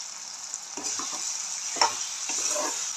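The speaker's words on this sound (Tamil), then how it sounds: "இந்த மாதிரி கொதித்து மேலே எண்ணெய் பிரிஞ்சு வரும்." Bitter gourd gravy bubbles in a pan as oil separates on top, giving a soft, steady simmering hiss broken by a few low bubbling pops and one sharper blip.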